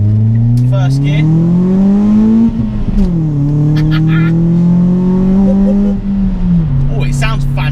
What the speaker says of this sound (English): Oh, it sounds fantastic as you go through the gear.